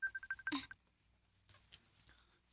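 An incoming call makes a phone ring in a short run of quick electronic beeps. The ring cuts off abruptly and is followed by quiet with faint small sounds.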